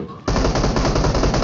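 Sustained automatic gunfire from a gun in PUBG Mobile squad play, loud and dense, bursting in after a brief quiet start and continuing as a rapid unbroken stream of shots.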